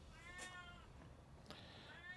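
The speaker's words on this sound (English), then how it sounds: "the cat has decided to break into my office and yell at me" A house cat yowls indoors in a home office, two drawn-out, fairly faint meows separated by a pause, heard close by without talk.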